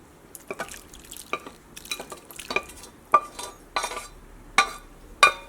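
Caramelized sugar syrup going into eggless plum cake batter, heard as a run of soft drips, clinks and wet splats at an irregular rhythm, close and moderately quiet, with no talk.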